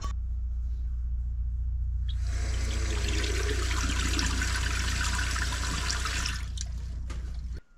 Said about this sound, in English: This is the bilge pump for the shower